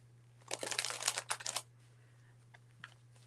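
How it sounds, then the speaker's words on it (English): Tarot cards shuffled by hand during a psychic card reading, a quick papery riffle lasting about a second, fairly quiet and close, followed by near silence with a faint tap. "Okay, Phoenix, I've already started shuffling for Veronica."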